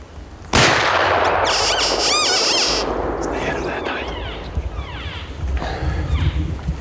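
A muzzleloader rifle fires once during a bull hunt in New Mexico, a sharp loud crack followed by a long decaying rumble, with excited voices and other noises afterward.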